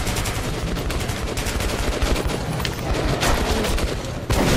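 Gunfire in Metro 2033 Redux on Xbox One: loud, rapid bursts of shots crack out almost continuously, with dense overlapping blasts and a few heavier hits near the end.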